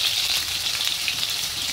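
Potatoes frying in oil in a pan, a dense, even sizzle held close and loud throughout the short stretch with no voices.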